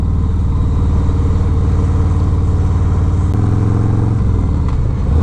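Harley-Davidson 2020 Road Glide Special motorcycle with a 114 cubic inch engine, a loud, close, steady low rumble that shifts pitch slightly near the end as the revs change.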